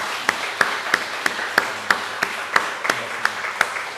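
A church congregation claps in welcome with a steady, rhythmic beat of roughly three claps per second over a soft background wash of room noise.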